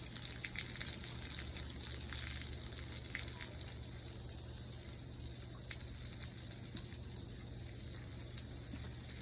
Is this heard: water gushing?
yes